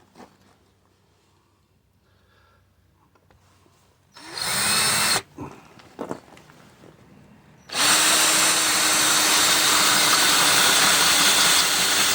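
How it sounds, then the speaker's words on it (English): A power drill with a 3/8 drill bit whines in two bursts, destroying threads on an old truck: a short one, a pause with light clatter, then a loud sustained run that continues to the end. "So this is a 3/8 drill bit. This is what I'm going to use."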